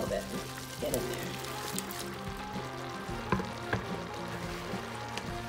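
Noodles go into a sizzling sauté pan, giving a close, crackling fry with scattered taps and stirring clatter, while a voice talks over it.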